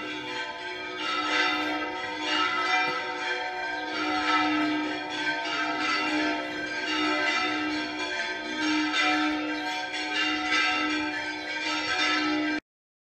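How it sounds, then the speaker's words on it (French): Several church bell towers in Écija ring together, a dense, loud, continuous peal of overlapping bells sounding steadily for the whole stretch before stopping abruptly. "toutes les cloches se mettent à sonner ensemble"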